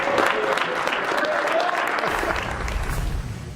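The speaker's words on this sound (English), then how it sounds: "We should join in the applause, I believe" Applause for Nikola Jokic winning NBA MVP, a dense, loud crowd clapping in a room that carries on steadily throughout with no break.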